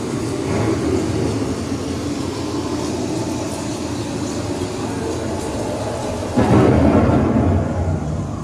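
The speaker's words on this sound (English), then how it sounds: "The approaching storm may seem violent and destructive to us" A violent storm rolls in on an indoor attraction's effects track, a steady, loud rumble of thunder and rushing noise that swells into a heavier surge near the end, with no voices.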